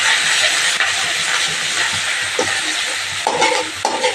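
Shrimp paste seasoned with chili powder and salt sautéing in hot oil gives a steady, loud sizzle and hiss. A few scraping stirs cut through the crackle near the end.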